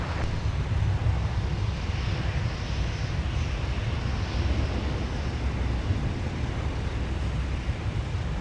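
A jet airliner takes off from runway 17 at Minneapolis–Saint Paul airport in winter, a loud continuous engine roar with wind buffeting that holds steady throughout.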